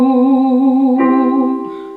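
A light, airy head-voice note sung steadily, then stepping to a second pitch and fading slightly at the end.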